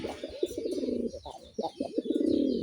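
A Raj Golla pigeon coos close by in a few rhythmic bursts, its mate nearby, the throaty rolling calls rising and pausing, no voices over them.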